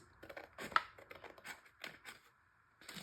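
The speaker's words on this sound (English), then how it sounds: "I think I'm gonna try scissors" Scissors snipping through a paper postcard, a few close, crisp cuts in uneven bursts with short pauses, quiet and alone.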